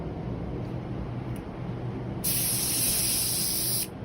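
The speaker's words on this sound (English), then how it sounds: "I'm going to do a quick pattern spray." A Graco electrostatic spray gun, with electrostatics switched off and atomization turned down, fires a short pattern spray: a steady, bright hiss that starts abruptly after a quiet room hum and lasts under two seconds before cutting off.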